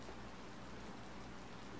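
Rain falls in the Harvest Moon Light of Hope game as a steady, even hiss of dense drops, unbroken and fairly soft throughout.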